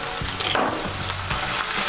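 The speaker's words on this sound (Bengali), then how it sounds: "আদা বাটা, রসুন বাটার কাঁচা লঙ্কা বাটাটাকেও তেলের সঙ্গে মিশিয়ে নিয়ে ভেজে নেব" Ginger, garlic and green chilli paste fries in oil, giving a steady moderate sizzle with a few soft scraping stirs mixed in.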